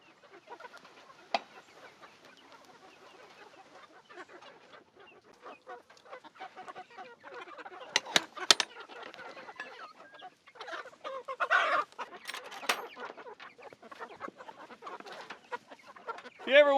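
A flock of chickens in a forest clucking and murmuring close by, a busy scattered chatter with occasional louder squawks rising toward the end.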